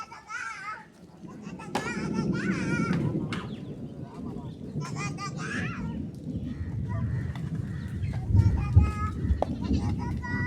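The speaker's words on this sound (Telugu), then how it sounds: "మేకలు చూడండి ఫ్రెండ్స్ మేకలు పోతున్నాయి" Several goats bleat repeatedly, some near and some farther off, over a rumbling outdoor background with children's voices mixed in.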